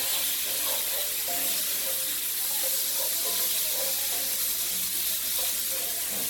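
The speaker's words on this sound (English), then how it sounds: "Fry those babies up." Seasoned shrimp frying in olive oil, a continuous bright sizzle and hiss at steady volume, close up, with a faint voice barely present underneath.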